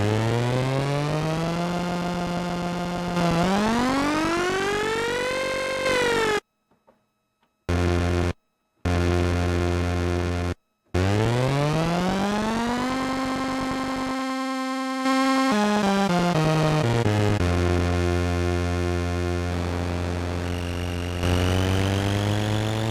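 Moog Little Phatty synthesizer playing sustained, buzzy tones with swooping pitch glides, cutting out briefly a few times, then the timbre shifting repeatedly as oscillator 1's waveform is switched.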